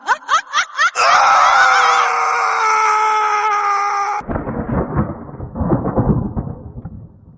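Eerie horror-cartoon storm in a village, loud thunder cracks and a long wailing, screech-like tone over steady heavy rain, then rumbling thunder and rain continuing alone.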